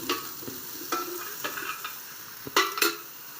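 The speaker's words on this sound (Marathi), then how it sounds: "कांदा टाकायचा, लाल होईपर्यंत भाजून घ्यायचा" Onion fries in a pan for spicy Maggi noodles, a soft, steady sizzle broken by a few clinks and scrapes of a stirring utensil against the pan.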